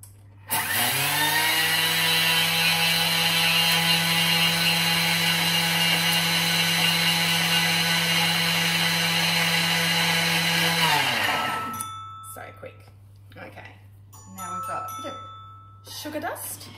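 A kitchen mixing machine runs at speed 10 for about ten seconds while making cupcakes, a loud, steady high-pitched whirring drone that cuts off abruptly, followed by quieter clatter and rustling with voices.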